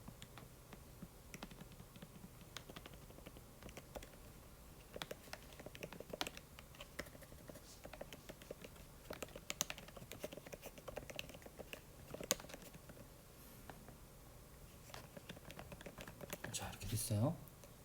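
Quiet typing on an iPad keyboard, a steady patter of soft key taps with occasional pauses, faint and close, over low background hiss.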